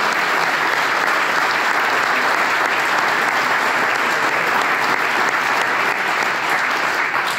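An audience at a political speech in Valence breaks into steady, dense applause for the young Republicans, a continuous wash of clapping from a large crowd that holds at full strength throughout without letup.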